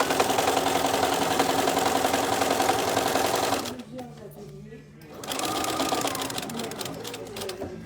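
A sewing machine runs steadily, stitching the side seam of a tote bag with French seams, a loud continuous whir that pauses briefly midway before restarting.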